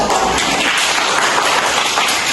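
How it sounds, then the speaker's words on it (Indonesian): A seventh-grade class applauding during a Christian religious education lesson, a loud steady wash of many hands clapping close by, with no talking over it. "Oke, tepuk tangan dulu dong"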